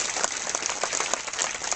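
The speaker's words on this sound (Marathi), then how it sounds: "एकदा त्यांच्या कर्तृत्वासाठी जोरदार टाळी वाजवा" Audience applause at a Marathi devotional kirtan gathering, a dense steady patter of many hands clapping throughout, fairly distant and evenly sustained with no pauses.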